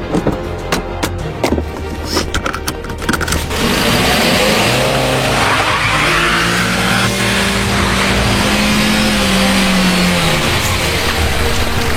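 Car accelerating and skidding on a street in an abandoned ghost town, a few sharp knocks then a loud sustained engine roar with a rising tire squeal, heard alone without talk.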